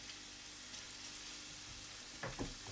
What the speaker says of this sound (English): Don't you just love the sound of oil in a